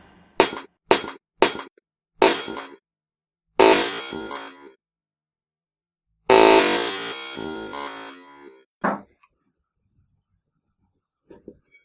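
A hammer strikes a glass window in a series of sharp, separate blows, each a bright crack with a brief ringing tail, and a longer crunching shatter partway through before the sound fades to near silence.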